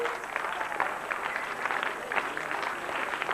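An audience at a Hindi poetry gathering applauds, a steady, moderately faint wash of many hands clapping with no distinct voices.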